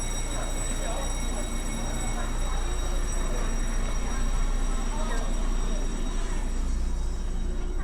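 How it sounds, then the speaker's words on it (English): A train rumbles steadily with a constant hum, while people talk nearby. "Okay, everyone's getting on the train."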